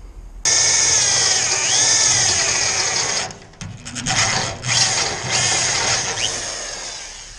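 A power drill bores into material on a pressure wash trailer build, whirring loud and continuous for several seconds, then stuttering in short stops and restarts before spinning steadily again.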